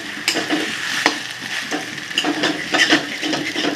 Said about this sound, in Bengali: তেলের ওপরে ছেড়ে দিতে হবে খুব ভালো করে নাড়াচাড়া করতে